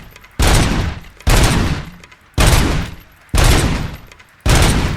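Loud bursts of gunfire from the video game RoboCop: Rogue City, five sharp volleys in quick succession with brief gaps between them, close and dominant with no talk.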